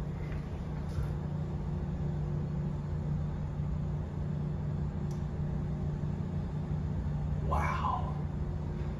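An old crank-operated elevator in the former Marshall Field's department store in Oak Park, Illinois, running with a steady low mechanical rumble and hum throughout, with a brief squeak near the end.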